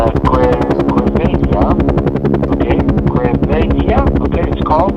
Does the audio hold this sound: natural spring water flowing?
no